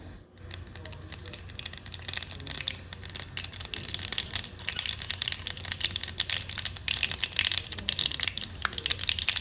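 Mustard seeds hit hot oil for a dhaba-style mixed dal tadka, giving a dense, steady crackle and spatter of popping seeds. The sound is close and continuous, with no talking.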